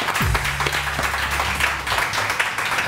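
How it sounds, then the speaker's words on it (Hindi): A crowd breaks into sustained applause, a steady wash of clapping that carries on without letup, with a low tone sounding underneath at the start. "पहले तालियां बजा"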